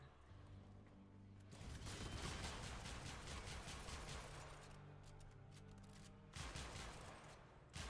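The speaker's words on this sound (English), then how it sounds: "we're definitely firing faster with this one" Rapid weapon fire from the game Warframe, a dense sustained burst of shots that swells after the first second and runs almost continuously, loud and close, with a brief lull before a final flurry.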